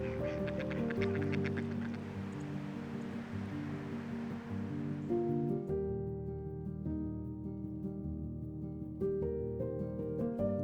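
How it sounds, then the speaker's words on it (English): Mallard ducks quack repeatedly, several birds calling close by in overlapping bursts, with a low outdoor rumble underneath, at Churchill Park in December. "a lovely little place called Churchill Park, which hosts a number of adorable mallard ducks."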